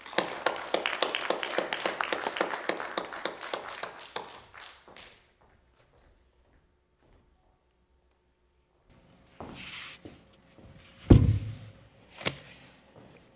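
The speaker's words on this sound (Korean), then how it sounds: "힘찬 박수로 모시겠습니다" Applause greets a speaker at a commemorative ceremony, a burst of many close claps fading out after about four seconds, then near silence broken by a few knocks and thumps.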